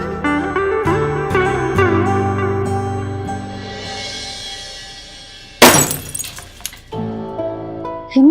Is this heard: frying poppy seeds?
no